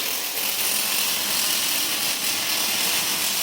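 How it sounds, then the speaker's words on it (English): A Lorch MicorMIG 350 water-cooled MIG welder lays a test weld with the basic pulse panel, giving a constant dense crackling hiss at close range throughout, with no one speaking. "Quick weld test on this."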